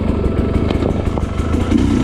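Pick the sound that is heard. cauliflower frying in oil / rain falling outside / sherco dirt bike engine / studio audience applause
sherco dirt bike engine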